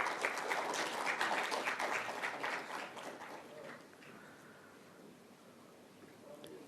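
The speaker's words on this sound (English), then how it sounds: "Please welcome with a round of applause." An audience at a business summit in Hyderabad applauds, a dense patter of clapping that is strongest at first and then fades away over several seconds, heard from some distance.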